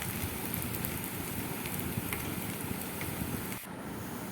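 A tea-time snack sizzles in very hot oil in a home kitchen, a steady dense crackling hiss that runs unbroken at moderate level, with no talk heard.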